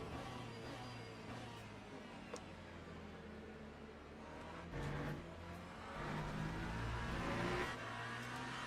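Hypercar engine in the Le Mans Ultimate racing game, heard in VR as a steady, fairly quiet drone with low harmonic bands that swell and rise in pitch under acceleration, with brief surges near the end and no talking.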